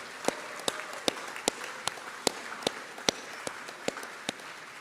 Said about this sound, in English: Let's applaud everybody that came out to support you today.